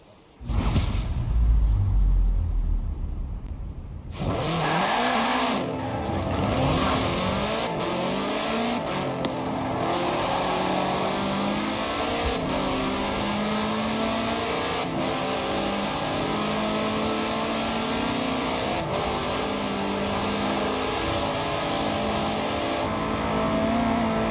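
Car fitted with a 2.5-liter F4 turbo engine in Forza Horizon 4, revving hard: an abrupt startup roar, then a long sustained engine drone with rising and falling rev sweeps, loud and close, no talking.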